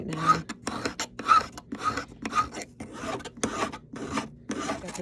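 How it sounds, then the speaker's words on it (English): A hand file rasps against a sterling silver bracelet with opal inlay in rough filing. About a dozen short, close, evenly paced strokes are separated by brief pauses. "It's just my rough filing right now."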